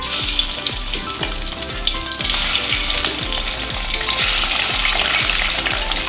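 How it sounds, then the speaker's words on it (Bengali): Four whole hilsa fish roes fry in hot oil, giving a loud, steady sizzle and crackle that runs throughout with no voices. "মাছ থেকে যে 4টে ডিম বের করে নিয়েছিলাম সেই ডিমগুলো গোটা গোটা ভাজবো"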